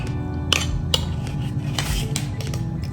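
Metal teaspoon clinking against a bowl while measuring baking powder for buttermilk biscuits, a few sharp taps over a steady kitchen background, close with no talk.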